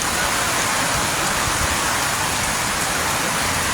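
Heavy typhoon rain pours down in a dense, steady, loud hiss across the whole stretch, with no voices.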